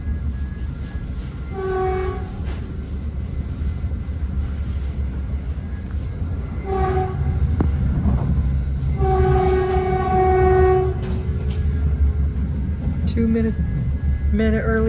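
A Caltrain commuter train rolls into Menlo Park station, its rumble steady and loud nearby while a horn sounds several times in long and short blasts, with a voice talking over parts of it.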